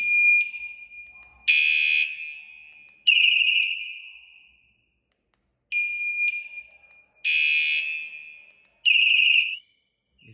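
A bicycle anti-theft alarm cycles through loud, piercing electronic siren patterns: warbling chirps, a steady tone and rapid trills in a repeating sequence, close and isolated, with brief silent gaps between bursts.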